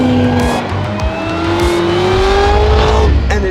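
A 2025 Corvette ZR1 engine accelerating hard, a loud close rising roar with climbing pitch that briefly breaks as it shifts, then surges again near the end.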